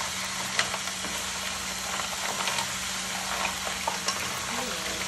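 Fresh mussels and garlic sizzle steadily in a hot pan on a stovetop turned up past medium-high, a continuous close frying hiss with faint stirring clicks and no voices.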